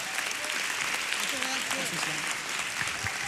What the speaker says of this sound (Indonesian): Tepuk tangan sekali lagi untuk 18 komika Stand Up Comedy Indonesia Season 3